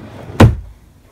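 A dresser drawer in a small apartment nursery being pulled open, a single short wooden thump and slide, close and fairly loud, with no talking.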